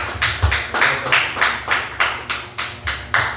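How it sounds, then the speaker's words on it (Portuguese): A church congregation claps in rhythm, with sharp, loud claps landing on a steady beat about every 0.4 seconds. It sounds like a coordinated round of praise applause rather than scattered clapping, and no one speaks. "Uma salva de palmas para Jesus."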